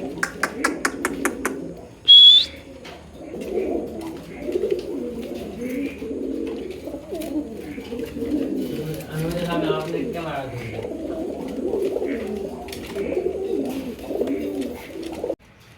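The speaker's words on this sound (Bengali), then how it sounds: "1 জোড়া ইন্ডিয়ান লোটন দেখতে পাচ্ছেন, 2 থেকে 3 ফেদার বয়স।" A pair of young Indian Lotan pigeons, two to three feathers old, coo in low, continuous rolling tones close by while a person talks over them.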